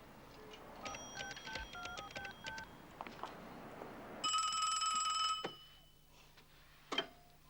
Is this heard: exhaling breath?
no